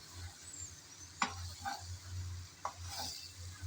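Ridge gourd and fried potatoes being stirred together in a pan, with a few sharp spatula scrapes over a low steady sizzle, close and moderately quiet, no talking.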